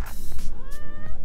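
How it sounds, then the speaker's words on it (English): A cat at a campsite in Morocco gives a short, clear meow that rises and falls, close and loud, with faint background noise. "the little kitties"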